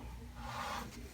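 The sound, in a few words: sanding block rubbing guitar frets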